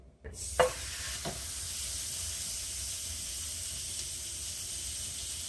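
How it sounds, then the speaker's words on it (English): Steaks hit a hot iron pan with no oil in a quick clatter, then a loud, steady sizzle hisses on without pause. "You want to hear the sizzle when the steaks meet the iron."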